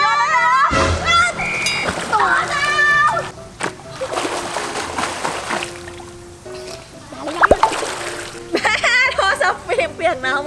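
A mobile phone is thrown into water, making splashes and sloshing amid excited children's voices and shouting that continue around the splashes.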